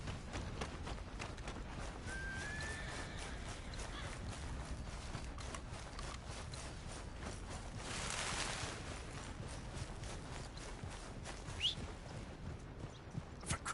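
Horse hooves clip-clop steadily in Red Dead Redemption II, a continuous rhythmic trot that stays moderately loud through the whole stretch, with a brief rushing burst midway and a few sharper knocks near the end.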